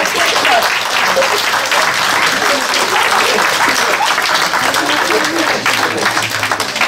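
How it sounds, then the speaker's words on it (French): A French audience at a New Year's greetings gathering claps loudly and continuously, a thick, even wash of applause that holds throughout. "je voudrais surtout applaudir, qu'on applaudisse les parents et les enfants"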